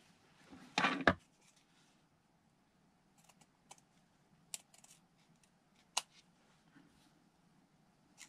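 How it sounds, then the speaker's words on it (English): Scissors snip through collaged base papers: a quiet setting with a loud crunchy cut near the start, then sparse, faint, separate snips and clicks scattered over several seconds. "These are not fabric scissors, let me tell you."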